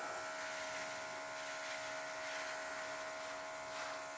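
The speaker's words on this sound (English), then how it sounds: "I've never actually used a blower thing before, so I don't know." A small electric mini blower runs without pause, pushing poured paint across a surface: a steady, close, buzzy whine with a constant motor tone and no voices.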